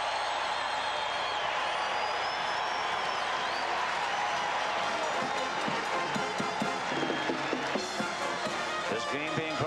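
Iowa State basketball fans roar through a timeout at a 1996 Big 8 Tournament semifinal against Missouri, a dense crowd wash with cheering, and faint rhythmic clapping building toward the end.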